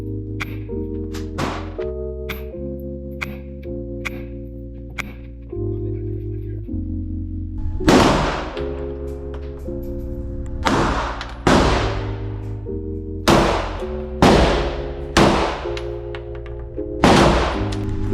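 Handgun shots from new shooters on a training range, about a dozen sharp cracks with decaying tails, spaced irregularly, alone over a steady low tonal hum.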